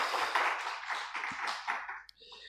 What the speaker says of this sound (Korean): 우리 박수로 환영을 하겠습니다